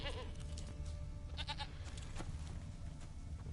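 Goat bleats in a video game, a few short wavering cries standing out over a steady low background hum, fairly close and moderately loud.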